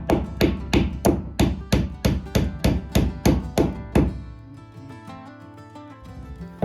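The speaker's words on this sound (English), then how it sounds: "Alright, left hand hammer." A hammer drives a 2x6 wooden floor joist into metal joist hangers in a tiny cabin loft build: about fourteen sharp, evenly spaced, loud blows close up, followed by quieter shuffling and clinking.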